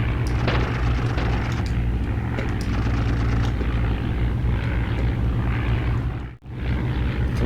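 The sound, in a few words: aircraft propeller still running in a WWI flight video game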